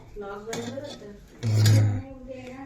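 Vadas being flipped in a pan with metal utensils in a home kitchen: a couple of light clinks, then one louder, heavier metallic clatter, with voices talking around it.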